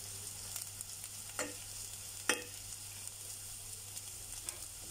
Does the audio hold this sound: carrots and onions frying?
yes